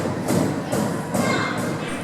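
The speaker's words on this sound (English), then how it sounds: "It was just the children banging on the doors, messing about." Children bang on the doors of an Otis 2000 lift, producing a series of dull, muffled thuds repeating roughly every half second against a steady background hum.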